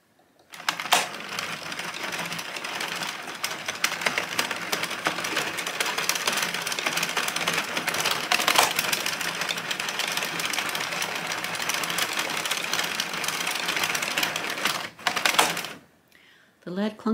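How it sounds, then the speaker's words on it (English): Addi Express King Size circular knitting machine cranking steadily, a dense continuous mechanical whirring with a repeated clunk from its mechanical row counter, close and loud before stopping near the end. "The loud clunking noise is nothing to worry about. That is the mechanical row counter."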